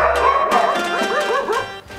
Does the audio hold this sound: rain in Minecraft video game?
no